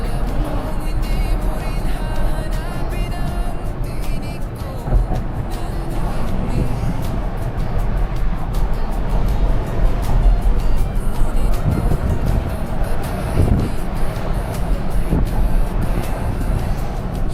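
A big Range Rover SUV drives along with a steady, loud road and engine rumble filling the cabin, and faint voices can be heard inside the car.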